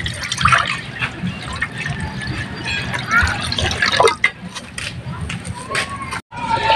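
Water poured from a container into a cooking pan in a home kitchen before boiling seafood, a splashing, trickling stream running for several seconds with a brief break near the end, while people talk in the background.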